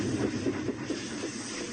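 A radio-drama train rumbles and hisses in a rhythmic clatter, moderate and steady for under two seconds with no voices.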